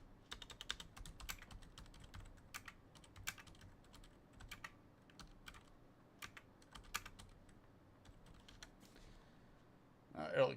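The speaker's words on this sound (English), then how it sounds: "I'm a super lazy typer, especially when I'm just throwing it in there." Lazy, uneven typing on a computer keyboard: scattered bursts of clicky keystrokes with pauses, fairly close and quiet, ending with a brief louder thump.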